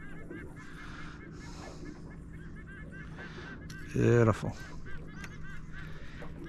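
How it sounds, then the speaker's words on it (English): Geese or other fowl honking over a calm fishing spot on a morning outing, a burst of loud honks partway through over faint background, with a brief spoken word. "Hear the birds in the background"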